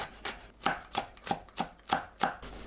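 A knife chops onion, green onion and chili peppers on a board, about eight even, crisp strokes in a steady rhythm, close and alone without talk.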